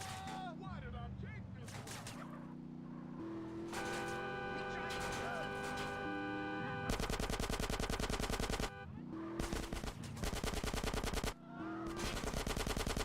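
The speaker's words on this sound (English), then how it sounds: "Who's shooting at me?" Rapid automatic gunfire in GTA San Andreas during a custom DYOM mission, in long loud bursts over game music, with a voice speaking briefly at times.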